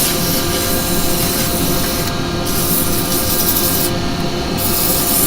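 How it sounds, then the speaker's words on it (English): Steady, continuous abrasive rasping of sandpaper on a turned wooden lidded pot, loud and close, with a couple of brief bursts of brighter hiss. "Do a little bit of a sanding on that."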